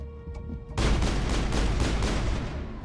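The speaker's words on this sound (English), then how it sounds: "Oh, it's a turret." Sustained automatic turret fire in the video game Mass Effect bursts in loud and dense after a quieter stretch of humming background, a continuous rattling barrage.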